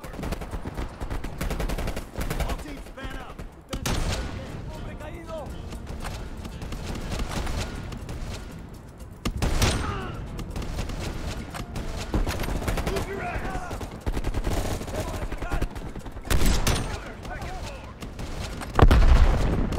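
Gunfire from a Call of Duty Black Ops Cold War battle, with repeated bursts and dense automatic shots crackling loudly across a busy mix of game noise and occasional voices.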